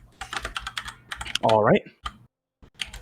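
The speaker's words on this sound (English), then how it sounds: "We can just hear his keyboard. It's a mechanical keyboard." Rapid clicky keystrokes on a mechanical computer keyboard come in irregular bursts, fairly close, with a brief spoken phrase partway through and a short pause near the end.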